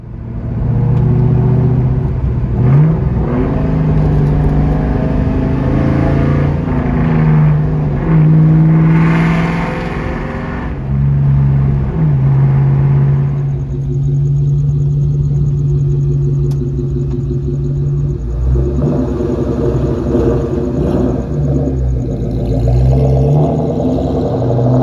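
A 2004 Ford Mustang Mach 1 with a new McLeod clutch on a test drive: a steady loud engine rumble and interior drone that rises and falls with revving and gear changes throughout.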